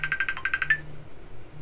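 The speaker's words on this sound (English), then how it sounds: "Oh, got a phone call." An incoming-call ringtone in Farming Simulator 22 plays as a rapid electronic trill of about eight quick, bright pulses with a short gap midway, then stops, leaving a faint low hum.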